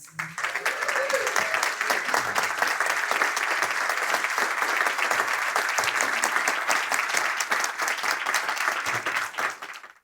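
Sustained applause from an audience at a chamber of commerce member breakfast welcoming UConn women's basketball coach Geno Auriemma, steady dense clapping that fills the room for the full length, fading slightly at the end.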